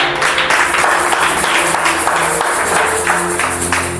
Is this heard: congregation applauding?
yes